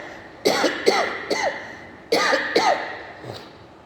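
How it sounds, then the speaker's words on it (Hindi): A person coughs repeatedly, three sharp coughs, a short pause, then a few more, close and fairly loud. "आज खांसी क्यों आ रही है?"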